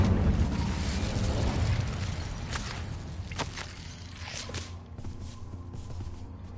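Incendio fire spell in Hogwarts Legacy, a roaring whoosh of flame up close followed by sharp crackling bursts that fade into a quieter rumble.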